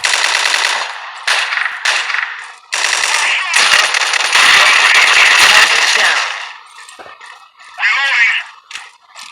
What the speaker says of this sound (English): is the 1911 when it's firing